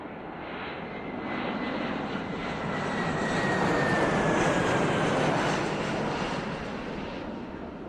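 Aérotrain experimental 02, a hovercraft test train built for 300 to 400 km/h, running on its experimental track: a steady loud roar of engine and air, swelling slightly toward the middle with a faint falling whine, no talk.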